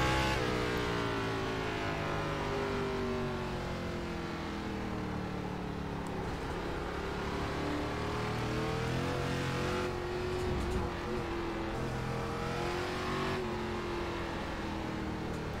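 An ARCA Menards race car in iRacing on the Charlotte Roval road course drones continuously at high revs, the engine pitch sweeping up and down with gear changes, loud and alone without talk.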